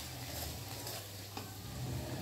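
Fine semolina dry-roasting in a pan for Punjabi besan panjiri, giving a soft, steady sizzle and light scraping stir, faint and continuous with no voices.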